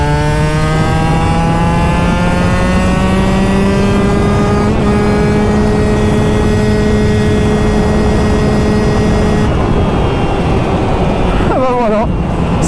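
A Husqvarna 125 TX motorcycle engine screams at full throttle in sixth gear toward top speed, a loud, close, continuous whine climbing steadily in pitch before dropping off near the end.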